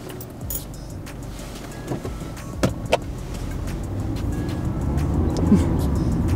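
Steady interior rumble of a car driving on the road toward Jurmala, with low engine and tyre noise gradually building and a few small clicks and knocks in the cabin.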